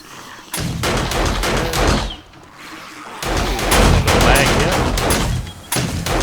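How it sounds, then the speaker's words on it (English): Wall-mounted turrets firing down on zombies in the video game 7 Days to Die, with dense rapid bursts of loud gunfire in two long volleys split by a short lull, up close. "the turret on the wall here to the left will fire down on them"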